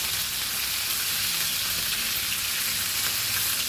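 Goan fish pieces fry in very hot oil, giving a loud, steady, dense sizzle with crackling throughout and no voices.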